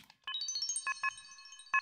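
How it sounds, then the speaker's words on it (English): Level-up sound effect from a video game: a quiet, bright chiming jingle with a quick rising run of bell-like notes followed by a few sparkling chord hits. "I like that level up sound effect."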